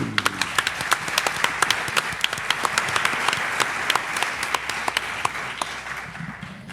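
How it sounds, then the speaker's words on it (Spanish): Studio audience applause for a guest on a Spanish podcast about unexplained events, dense clapping with sharp individual claps standing out, steady and close throughout before tapering slightly at the end. "Un aplauso para Marcelino Requejo."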